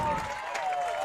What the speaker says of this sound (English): It's the dugout of Towson has now roared to life. They're making a lot of noise over there, and the fans in front of us adding to that noise as well